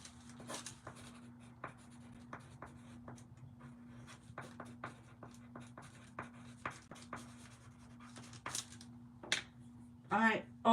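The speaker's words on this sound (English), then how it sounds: "I'm going to write that down" Pen writing on paper in short scratchy strokes and taps, quiet and close, over a steady low hum, ending with a couple of louder handling bumps.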